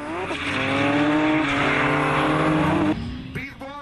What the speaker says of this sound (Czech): Vozy řítící se bokem v kontrolovaném táhlém smyku ze zatáčky do zatáčky za ohlušujícího kvílení pneumatik